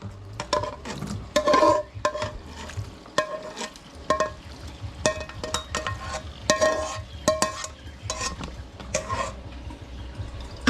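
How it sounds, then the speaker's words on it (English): Oil drains from a pan of cooked hamburger meat, with scraping, stirring and clattering of a utensil against the pan plus faint sizzling and liquid sounds throughout, no talking. "Draining out the oil."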